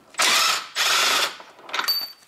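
Ratchet wrench loosening a body bolt under a Honda Civic, heard as two sustained bursts of fast clicking followed by a shorter, choppier run, close and loud with no talk.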